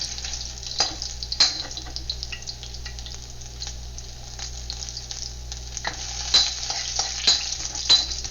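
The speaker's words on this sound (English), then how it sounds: "you only have to fry the ginger for 30 seconds" Ginger frying in oil in a pan during Chinese vegetarian cooking, a steady close sizzle with occasional clinks and scrapes of a utensil stirring.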